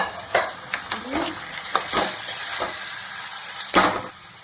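Duck meat added to browned onions frying in a pan, with continuous sizzling and several sharp stirring scrapes and clacks of a spatula against the pan.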